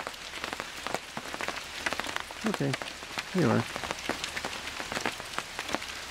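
Steady rain patters on surfaces at a campsite, a dense close hiss of drops with brief spoken words and some tonal chirps rising above it.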